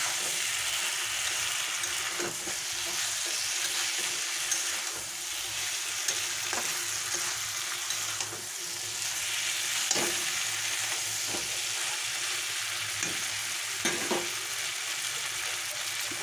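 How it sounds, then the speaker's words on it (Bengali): A paste of cumin, green chilli and onion frying with shrimp and vegetables for a village-style curry, a steady close sizzle with occasional stirring knocks and clinks against the pan. "মশলাটা পেস্ট করে রেখেছিলাম, জিরে, কাঁচা লঙ্কা, পেঁয়াজ, ওটা আমি দিয়ে দিলাম"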